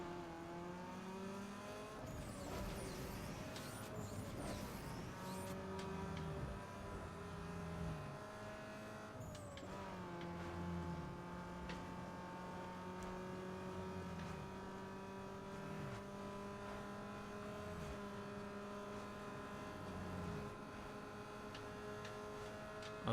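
Car engines drone and climb through the gears during a drag race in Need For Speed Underground 2, with repeated rising and dropping pitch at each shift and a few thumps early on. The engine noise is continuous and moderately loud.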